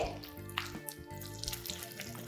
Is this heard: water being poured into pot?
yes